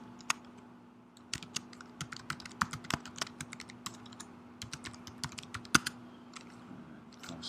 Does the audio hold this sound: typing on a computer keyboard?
yes